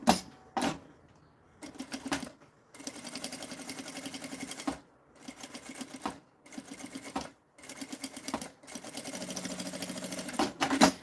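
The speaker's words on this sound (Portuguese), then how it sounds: "E aqui eu vou passar um pesponto, uma costurinha de meio pé de máquina." A sewing machine runs in several bursts, topstitching a half-foot seam on the fabric of a zippered pencil case, with short pauses between stitching runs and no talk.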